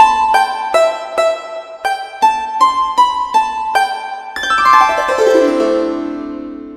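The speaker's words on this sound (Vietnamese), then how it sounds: "Rồi giờ các bạn nghe thử tiếng đàn tranh ha," A đàn tranh zither voice on a Kurtzman K350 keyboard, set with reverb, plays a series of plucked notes that ends in a rippling descending glissando that rings out and fades.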